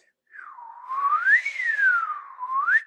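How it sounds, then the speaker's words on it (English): A slide whistle glides its pitch up, back down and up again in one continuous loud, clear tone. "Well, a slide whistle, you can change the length of your"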